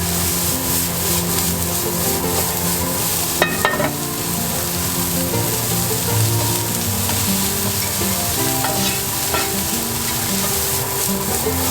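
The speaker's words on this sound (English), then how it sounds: "This will cook very quick because the broccoli was very thin and small, and even the Chinese sausage." Thin broccoli and Chinese sausage fry for fried rice. A loud, dense sizzle holds steady over a low hum, with a few sharp clanks from stirring in the pan and no speech.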